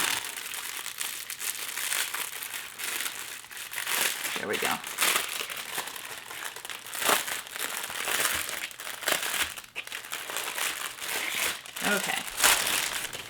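Paper wrapping crinkles and crumples steadily and close up, rustling in uneven bursts while a person speaks briefly.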